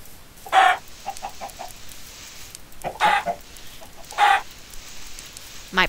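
A Minecraft chicken clucks in several short, fairly loud bursts spread across the stretch, with a few softer clucks in between and quiet gaps around them; no one talks.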